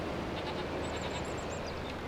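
Sheep bleating in Farming Simulator 25, a few faint high calls heard over a constant loud background hum of machinery or ambience.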